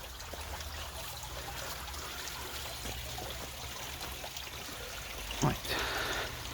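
A stream and waterfall at Old Roar Gill in Coronation Wood give a steady, broadband rushing and trickling of water throughout, with a brief louder splash or thump near the end.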